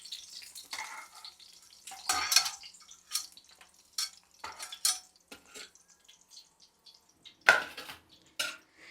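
Broad beans frying in a pan for a pickle, with scattered clinks and scrapes of stirring against the pan, in short bursts over a faint background sizzle.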